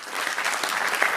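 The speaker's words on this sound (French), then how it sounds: "Merci d'applaudir Violaine Lucas" Audience at a family planning association anniversary event clapping in a brief, dense burst of applause, steady and fairly close, with no talk over it.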